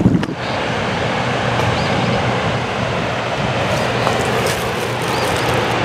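Heavy water rushes from a small dam on a river after a winter storm, a steady, loud broadband roar with wind buffeting the microphone, continuous with no voices.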